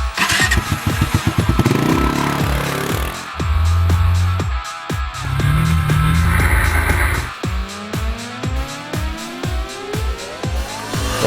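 A 2012 Kawasaki Brute Force 300 ATV engine runs and revs in bursts, loud and close, with throttle surges separated by quieter idling stretches, then choppy repeated blips near the end.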